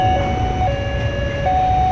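A CC201 diesel locomotive hauling a single carriage at Kiaracondong station, a steady loud engine drone with a held horn-like tone running throughout, no talk.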